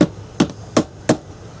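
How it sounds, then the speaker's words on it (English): Ball-peen hammer driving a part into place while installing a rear view camera on a camper, four sharp, evenly spaced metallic strikes up close, loud against a quiet background. "I'm gonna get the ball peen, hammer that sucker there in"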